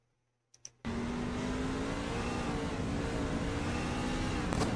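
Onboard race truck in a wreck: after a couple of sharp clicks, a loud engine roar bursts in and holds at high revs as the tires spin, steady and close.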